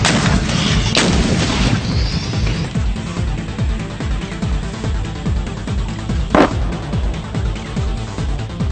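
Indonesian Army KH-178 105mm towed howitzer on an outdoor range, loud booming shots with long rumbling echoes and reverberation rolling after each blast.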